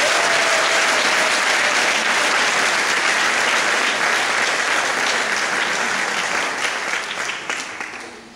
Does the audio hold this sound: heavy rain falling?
no